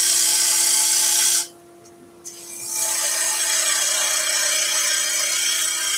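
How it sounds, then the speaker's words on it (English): Bowl gouge cutting a wooden salt or pepper grinder blank spinning on a lathe, a steady broadband rasping scrape with a constant hum beneath, breaking off for about a second before the cut resumes, close and loud, with no talk. "The bowl gouge removes a lot more of the material a little bit quicker"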